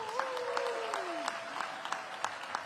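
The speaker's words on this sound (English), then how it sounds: "Please give Paul a big round of applause." Applause from an audience at a live education event with city officials, a steady wash of clapping with a few sharper individual claps, heard at moderate distance and fairly soft.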